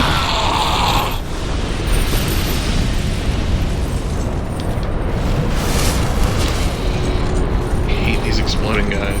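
Enemies exploding in the dark fantasy game Dark Souls II: a loud, continuous roar of blasts and rumbling debris fills the whole stretch with no quiet gaps.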